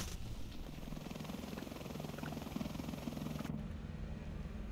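Military attack helicopter in a combat video game, its steady rotor and turbine drone loud and continuous, cutting off abruptly near the end.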